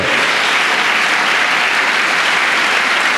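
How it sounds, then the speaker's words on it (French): A church congregation bursts into sustained, dense applause acclaiming the Lord, loud and steady throughout, a wash of many clapping hands with no break. "Si nous avons été bénis, acclamons le Seigneur"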